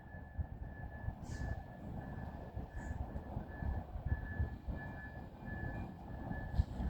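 Train number 48 departing a station at night, a low continuous rumble of rail cars rolling steadily with a faint high tonal whine, moderate and somewhat distant, no voices.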